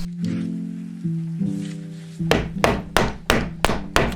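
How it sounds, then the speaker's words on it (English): A chisel is driven into a wooden board for an indoor sauna build, struck about six times in a quick, steady rhythm with sharp, close knocks after a stretch of tonal background sound. "we got to do a little bit of Billy chiseling"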